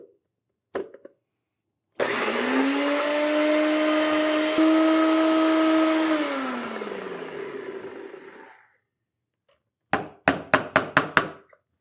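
A small blender whirs for several seconds, blending herbs, salt and olive oil into a green paste, its motor pitch dropping as it winds down, followed by a quick series of sharp knocks.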